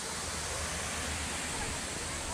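Steady, loud broadband rush of a deep waterfall in Calderón park, a constant roaring hiss of falling water heard up close without breaks.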